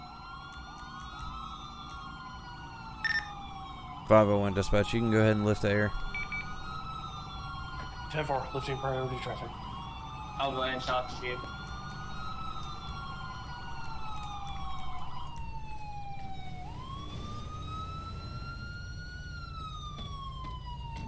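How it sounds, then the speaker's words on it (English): A police car siren wails in the game GTA 5, its rising and falling tone sweeping steadily and fairly loud, while radio-style dispatch voices talk over it in short bursts. "Pretty sure that's my siren still."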